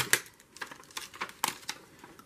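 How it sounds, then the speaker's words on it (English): Scissors snip through paper while a letter S is being cut out, giving a series of small crisp cuts and crinkles at an uneven rhythm, close and quiet with no talking. "So I will cut out the S."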